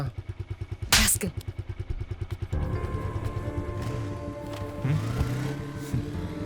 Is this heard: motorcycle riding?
yes